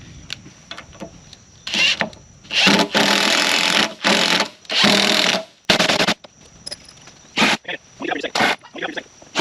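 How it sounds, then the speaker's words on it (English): An impact driver sinking 5-inch lag bolts through sawmill lumber boards onto a mill base, several loud bursts of rapid hammering lasting a second or so each, separated by short pauses, with some talk between them. "Giving the old impact a workout."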